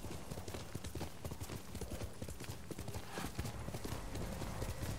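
Horse galloping in the video game Ghost of Tsushima, steady rapid hoofbeats under a dense, noisy wash of game sound, faint and continuous throughout.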